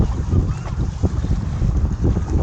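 Strong wind buffets the microphone with a constant low roar and gusty rumble, an outdoor, open-water feel, while fishing.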